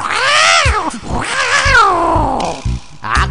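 A voice imitates an angry cat in a children's animal-sound contest song, giving drawn-out, wavering yowls and caterwauls that rise and fall, loud and close, with no talk over them.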